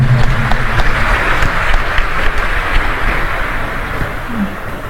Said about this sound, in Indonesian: boleh berikan tepuk tangan ya